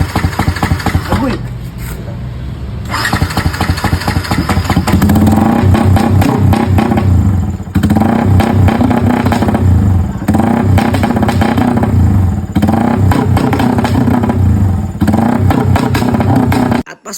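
A motorcycle nicknamed El Pacto fitted with a straight-pipe exhaust, revving loudly and close, with repeated throttle blips rising and falling over a rough, clattering idle.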